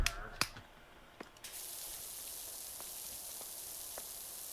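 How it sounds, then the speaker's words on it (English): A high-pressure washer in Powerwash Simulator sprays a patio, starting after a few drips and clicks and settling into a steady, hissing wash that runs to the end. "I'm gonna start hitting the patio with high pressure water"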